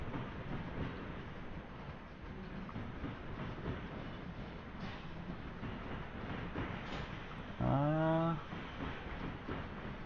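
Train with wagons passing in the Brick Rigs video game, a faint, steady rolling rumble with a brief tonal horn-like blast near the end.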